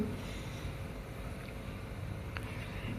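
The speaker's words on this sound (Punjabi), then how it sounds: "ਬਾਹਰ ਬਹੁਤ ਵਧੀਆ ਹਵਾ ਚੱਲ ਰਹੀ ਹੈ ਠੰਡੀ ਠੰਡੀ" Steady outdoor wind rushing and buffeting the microphone, a constant low rumble with no voices.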